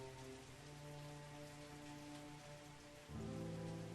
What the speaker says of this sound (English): It rained throughout the night, and unfortunately continued to rain in the morning.